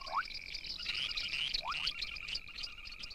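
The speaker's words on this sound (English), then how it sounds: "As night falls, the frog orchestra tunes up." A chorus of frogs calls at night, with steady high trilling croaks layered together and a few rising chirps cutting in, continuous and fairly close.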